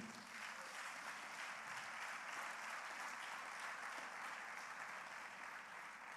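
A church congregation applauding the Lord during a French-language sermon, a steady, sustained wash of many hands clapping that fills the whole stretch without a break.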